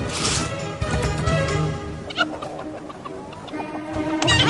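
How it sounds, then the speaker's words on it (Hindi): Hens clucking loudly and continuously, close by, with occasional knocks and scuffles mixed into the steady cackling of the flock. "मेरी मुर्गियों से दूर रहना"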